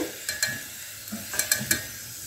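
Potato roll samosas deep-fry in hot oil, a quiet bubbling sizzle underlying several crisp clicks and taps from the frying spoon at irregular intervals.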